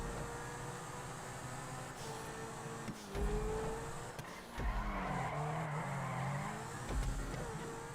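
A Pegassi Zentorno supercar racing a lap in GTA, its engine droning steadily with pitch that climbs and drops through gear shifts, plus short louder surges and what may be brief tire squeals.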